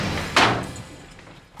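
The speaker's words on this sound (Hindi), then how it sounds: "दरवाजा तोड़ दो।" A door being forced open during a tense police search of a house, a single loud broadband crash or slam near the start, followed by quieter rumbling room noise.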